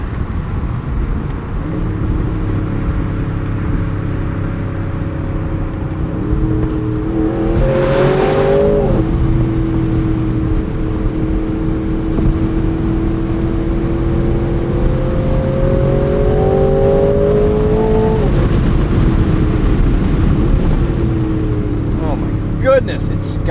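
A 670 hp V8 in a 2026 Aston Martin Vantage S roadster, driven at night, roars up through the revs in two rising sweeps over a steady loud engine drone and road noise.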